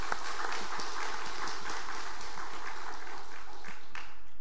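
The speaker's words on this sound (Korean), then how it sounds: "이 모든 분들에게 감사와 격려의 박수를 우리 올려드리겠습니다" Congregation at a Sunday church service applauding a short-term mission team in thanks, a sustained wash of many hands clapping at even loudness from start to finish.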